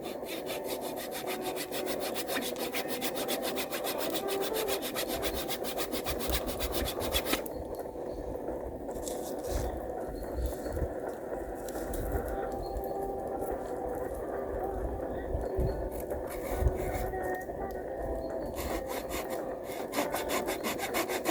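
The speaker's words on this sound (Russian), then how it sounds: "эта пила работает только на себя, как все японские пилы" A Japanese pull saw cuts a thin, narrow kerf in wood with rapid, rhythmic rasping strokes that continue close and steady throughout, briefly pausing and easing mid-way before resuming.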